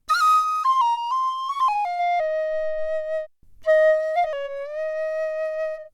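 A sampled tin whistle from a fantasy music production library plays a solo melody of sliding, ornamented notes in two phrases separated by a short pause, bright, clear and close, no voices.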